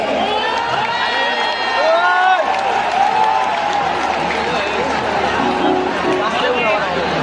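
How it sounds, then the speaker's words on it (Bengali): An audience at a stage gathering marking a one-year political anniversary breaks into loud applause with cheers and shouting voices, a dense, sustained wall of crowd noise. "জোরে করতালি হয়ে যাবে।"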